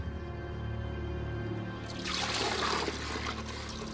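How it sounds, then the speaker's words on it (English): Water pours into an ancient water clock as it is refilled, a soft steady rush that starts partway through over a low background hum, with no one speaking. "Eventually, the water clock was refilled for the philosopher to defend himself."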